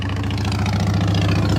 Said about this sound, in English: Sorry, these like loud motorcycles. They distract me a little bit.